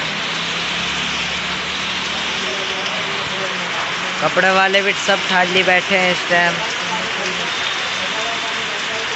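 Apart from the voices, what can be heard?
heavy rain falling on street in Bihar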